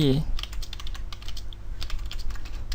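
Rapid clicking keystrokes on a computer keyboard while HTML code is typed, close and fairly loud in irregular bursts, with a brief bit of voice at the very start.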